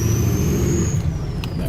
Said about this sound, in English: I think you hear that sound of the turbo,